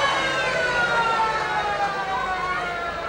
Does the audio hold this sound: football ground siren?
yes